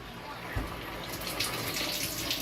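Kangen K8 water ionizer machine dispensing water, a steady soft hiss of running water with a brief knock near the start, fairly quiet and continuous.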